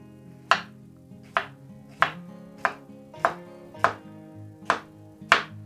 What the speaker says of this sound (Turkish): salatalığı küçük küçük şekilde doğrayıp makinenin kabına atacağız